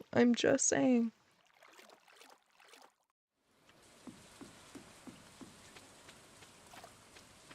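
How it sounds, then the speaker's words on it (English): Rain falling in the video game Stardew Valley, a soft, steady patter with scattered drops that comes in after a brief spoken voice and a quiet gap. "it has been raining, which is good to see"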